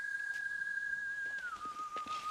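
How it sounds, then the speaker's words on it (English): Cartoon craters on the moon give off a steady high whistle, a single held tone that slides slightly lower partway through and continues, with faint background sound beneath. "We have to find out what's making the craters whistle."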